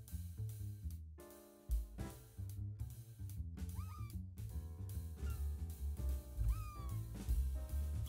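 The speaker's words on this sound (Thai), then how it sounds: "แมว" Cartoonish cat meows from a Roblox chase game pop out briefly over busy game music, with a couple of rising and falling cries standing above the steady backing track.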